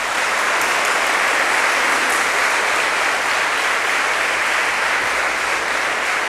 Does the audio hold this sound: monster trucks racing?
no